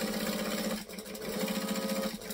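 A sewing machine stitches over fabric in a quick, even mechanical whir with a steady hum, briefly pausing once before running on, faint and close with no talk.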